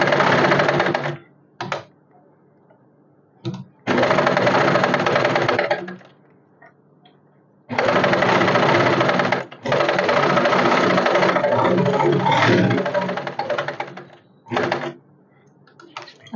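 A sewing machine stitches a square back patch on a blouse in several bursts of rapid mechanical chatter, close and fairly loud, with short quiet pauses between runs and no talk.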